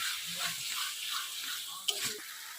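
Boiled peas sizzle steadily as they are sautéed and stirred in hot spice masala in a pan, with a close, even frying hiss, a brief utensil clink near the end, and soft talk in the background.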